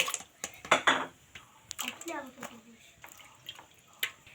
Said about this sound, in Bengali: এবার আমটা খুব ভালো করে কিন্তু ধুতে লাগবে